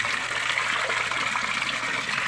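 Water in an Oscar fish tank is stirred by hand, giving a steady loud splashing and gushing wash throughout, with no talk.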